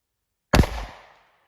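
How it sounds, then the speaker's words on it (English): A single sharp gunshot from a .38 Special snub nose revolver firing Winchester Defender 130 grain +P ammunition, close and loud, with a brief decaying echo after the crack. "I'm going to shoot from about 5 feet away."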